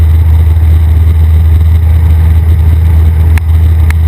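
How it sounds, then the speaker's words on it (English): A small training airplane's engine drones loud and steady from inside the cockpit in flight, a constant low hum with a brief dip near the end. "how you can use the engine as an audio cue that you're climbing or descending"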